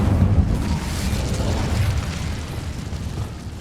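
Roaring whoosh of an Incendio fire spell cast in the Hogwarts Legacy video game, a steady rumbling burst of flame with heavy low crackle that holds loud throughout, with no talk.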